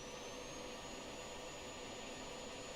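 F-16 jet engines roar at takeoff in a flight simulator game, a steady, dense whine and rumble holding constant throughout with a thin high tone on top.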